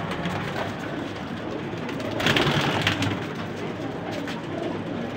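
Soft pigeon cooing repeats through a steady background murmur, with a brief louder rustle midway; birds sound fairly close.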